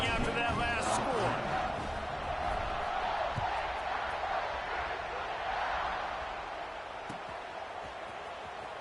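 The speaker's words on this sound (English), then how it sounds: "this crowd is buzzing after that last score" Stadium crowd roar in a college football video game, LSU versus Ohio State, a broad steady buzz of many voices that fades slightly over several seconds, with a play-by-play commentator talking over it.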